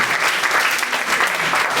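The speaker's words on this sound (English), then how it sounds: "Now you people have to clap." Audience applause at an NSS orientation program, a short burst of dense, loud clapping from a crowd, steady throughout.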